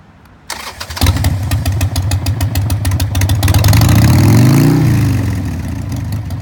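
A 2001 Harley-Davidson Sportster XL1200S engine cranks and catches, then settles into a loud, rumbling idle with a brief rev that rises and falls, recorded up close.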